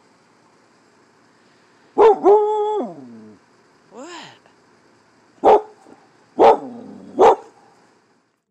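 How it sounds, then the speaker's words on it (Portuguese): A family dog barks in several sharp, loud bursts with a brief whiny howl between them, close by in a quiet setting, and a voice speaks briefly. "o cachorro da família começou a surtar à noite, correndo até o portão do quintal e latindo como louco."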